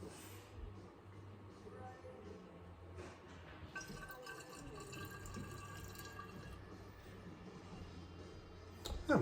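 Rye whiskey poured into an infinity bottle, a thin steady trickle of liquid with faint glassy clinks, close and quiet, ending in a louder splash.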